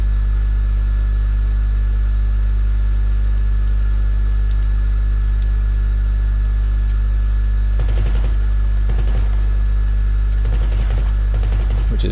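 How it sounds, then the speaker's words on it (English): A remote-controlled gun fires in GTA V: several short rapid-fire bursts ring out in quick clusters over a constant low engine-like drone. "remote gun, which is that"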